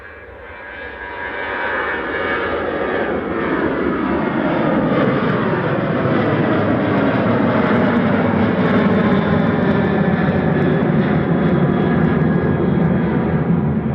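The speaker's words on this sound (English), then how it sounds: "Heading back to Belfast with Flight 191. This is GRUKL 737-800." Boeing 737-800 jet at Manchester Airport, its engine roar swelling within the first couple of seconds into a loud, sustained, steady rumble that holds to the end.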